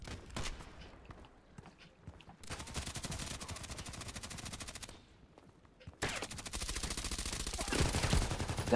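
Suppressed MP5SD submachine gun firing in Contract Wars, long sustained bursts of rapid muffled shots with a couple of short breaks, steady and close throughout.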